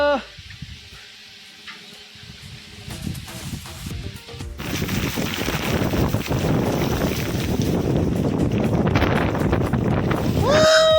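Gusty wind roars and buffets the microphone on a mountain at Harishchandragad during a monsoon trek, building from a quieter start into a loud, continuous rushing blast.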